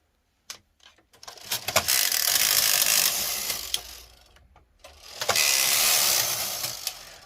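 Brother knitting machine carriage sliding across the needle bed to transfer lace stitches, two long rattling, clicking mechanical passes separated by a short pause, with sharp ratchet-like ticks at the start of each stroke.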